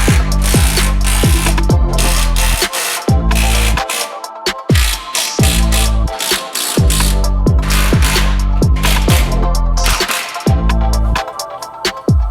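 A ratchet tightens 14mm nuts on a 1989 Honda CRX, giving loud, close bursts of rapid clicking with brief pauses between runs.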